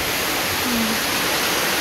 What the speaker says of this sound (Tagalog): Umulan na.